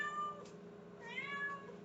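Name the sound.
cat meowing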